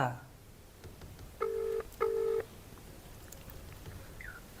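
A phone is dialed, with two distinct keypad tones in quick succession, each a short steady beep of about half a second, over a quiet room background.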